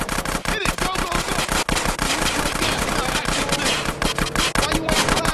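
Rapid automatic gunfire rattles continuously through a drive-by in GTA San Andreas, dense and loud, with engine noise beneath the shots.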